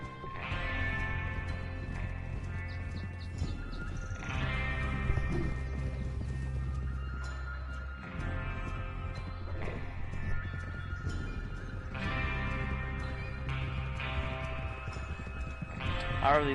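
Several horses gallop with a steady clip-clop of hooves through the Red Dead Redemption 2 video game, with an occasional whinny, under a continuous orchestral music score.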